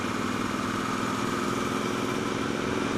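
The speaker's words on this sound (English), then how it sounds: "just by twitching the throttle now and again when it's under load." A 2013 motorcycle engine under load drones steadily and loudly close by, its throttle twitched now and again, though the note stays fairly even rather than rising in sharp revs.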